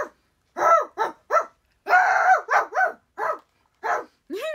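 A human voice imitates an angry small dog, producing about nine short snarling bark-like bursts with gaps between them, close and fairly loud.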